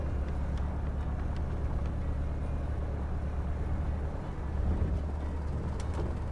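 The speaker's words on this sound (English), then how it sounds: "Because that's kind of what the engine sounds like. It sounds like it's stuttering." A stuttering small bush plane engine in the Deadstick flight simulator game, a continuous low mechanical drone with faint irregular sputters, steady and moderately quiet throughout.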